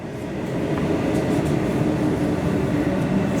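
A Comeng electric suburban train on the Sunbury line pulls into Middle Footscray station, heard from on board as a steady, close rolling rumble with faint rail clatter throughout.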